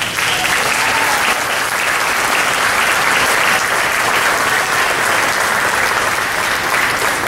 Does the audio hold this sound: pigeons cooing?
no